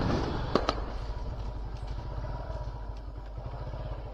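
Firecrackers bursting during Diwali celebrations, with a couple of sharp cracks near the start over a steady rumble of nearby traffic and engine noise.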